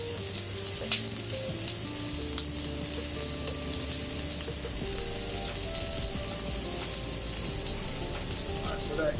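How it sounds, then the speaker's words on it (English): Scrambled eggs sizzle steadily in a frying pan on a stove, a dense continuous hiss with soft stirring taps, and a voice talks over it at moderate level. "So we've got our scrambled eggs on."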